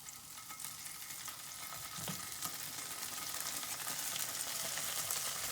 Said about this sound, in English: And once you really hear that sizzle